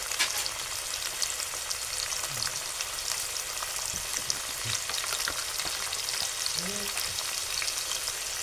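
Bitter gourd with sliced onion and tomato fries in a hot pan, a loud continuous crackling sizzle with occasional stirring scrapes and pops, and no voices.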